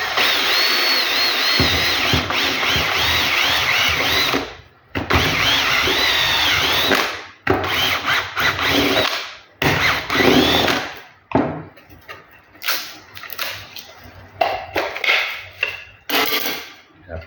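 A power drill fitted with a 32 mm step drill bit bores through material in loud, close whirring bursts, stopping and restarting several times with short pauses between runs.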